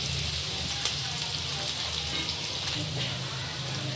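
Green chillies roasting in a hot pan for an evening snack, a steady close sizzle and crackle of frying that stays even throughout with no voices.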